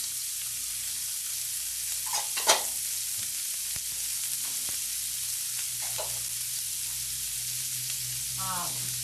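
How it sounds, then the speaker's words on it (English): Onions, carrots, sweet peppers and celery frying in oil in a pan, a continuous hiss of sizzling with a few scrapes and clicks of a spoon stirring. "We're gonna add the onions, carrots, sweet peppers, celery"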